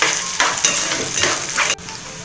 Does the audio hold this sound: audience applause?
no